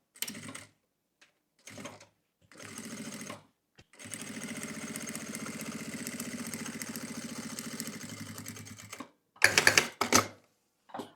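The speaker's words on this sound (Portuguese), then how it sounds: "E agora aqui eu vou costurar." A sewing machine stitches a zippered fabric pouch, with short bursts of needle chatter, then a long steady whirring run of about five seconds, then a few quick final bursts, close and clear with no talking.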